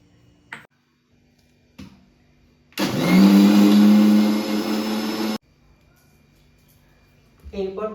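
An electric mixer grinder whirring loudly for about two and a half seconds as it blends yogurt and poppy seeds into a paste, starting and stopping abruptly, set between quiet kitchen knocks and a brief burst of talk at the end.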